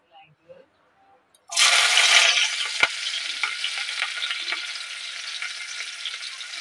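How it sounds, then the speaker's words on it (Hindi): Chopped garlic, ginger and green chili hit hot oil after a quiet moment, bursting into a loud, bright sizzle that gradually settles into steady frying with a few stirring knocks. "अब इसमें हम चॉप किया हुआ लहसुन, चॉप किया हुआ अदरक और चॉप किया हुआ हरी मिर्च को डाल देंगे"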